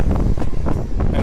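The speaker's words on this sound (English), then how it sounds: "They're extremely windy." Strong wind buffets an outdoor microphone in a steady, rumbling roar with brief gusty swells, and no voices or other sounds come through.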